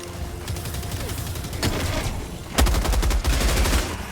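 In Helldivers 2, the Tenderizer rifle fires in rapid automatic bursts, with two or three loud, close strings of shots separated by short gaps amid game background noise.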